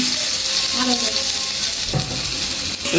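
Ingredients are dropped into hot oil in a pan, a loud, dense, continuous sizzle heard up close, with a brief bump of utensil contact partway through.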